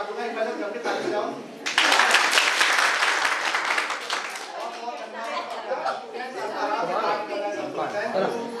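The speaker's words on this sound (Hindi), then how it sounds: "मैं एक बार करके ताली बजाऊं।" An audience at an academic seminar on higher education breaks into clapping that swells suddenly, stays loud for a couple of seconds, then fades into chatter and scattered claps.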